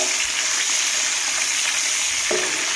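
Washed dried shrimp fry in hot oil, a dense, even sizzle held close and steady throughout, with a faint scrape of stirring near the end.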